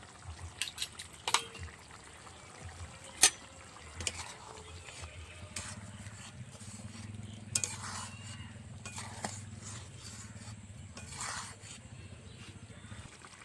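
Fried spices and sugar go into a cauliflower curry, followed by intermittent clinks of a utensil against the pan and soft stirring and wet scraping. Scattered sharp taps come over a low, steady background hum.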